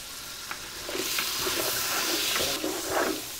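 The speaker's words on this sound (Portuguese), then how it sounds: "As carnes vão fritando." Meat for entrevero de pinhão sizzles steadily in a hot pan, a continuous crackling hiss with occasional sharper pops, close and fairly loud with no talking.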